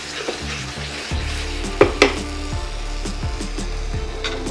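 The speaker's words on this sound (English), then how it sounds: "Mix it nicely." Fried paneer and vegetables are stirred in a kadhai, with steady sizzling oil under the scrape and clack of a spoon against the pan, including two sharper knocks partway through.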